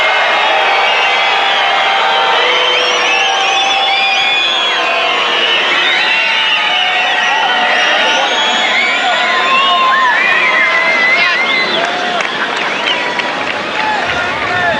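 A restless tennis crowd at the 1990 French Open, Gomez against Agassi, fills the air with continuous loud babble, scattered shouts and whoops, holding steady throughout without settling.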